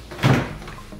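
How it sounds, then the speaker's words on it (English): An Antec Nine Hundred PC case's side door is pulled off, giving a single brief clunk and scrape of the panel up close, with a low hum running underneath. "Here, take off that door."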